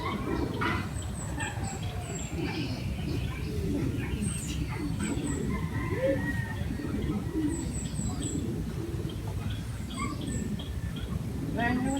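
Pigeons coo and rustle nearby in a loft under a constant dense murmur of birds, with some high chirps scattered throughout.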